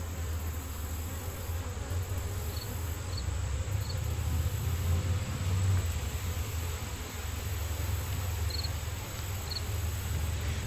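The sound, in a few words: bees buzzing in an open beehive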